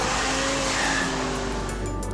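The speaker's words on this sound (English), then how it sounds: "I love the snarl of the engine." A car's engine drones steadily and close while driving, a sustained tone with a faint squeal of tires rising midway, no voices over it.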